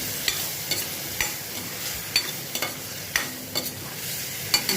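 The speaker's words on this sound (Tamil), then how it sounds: "நல்லா வதக்கிடுவோம்." Tomatoes and tomato paste sauté in a pan, a steady hissing sizzle punctuated by crisp, evenly spaced spatula scrapes, near and clear, with nobody talking.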